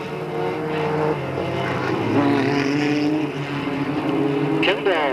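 Race cars at Delta Speedway in 1997 lapping the oval, a steady engine roar with passing swells over the full stretch, heard beneath continuous race commentary.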